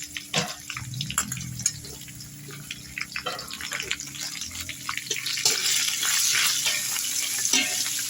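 Onions and green chillies dropped into a hot tempering for biryani, crackling and sizzling in a pan with irregular stirring scrapes, the frying hiss swelling louder over the second half.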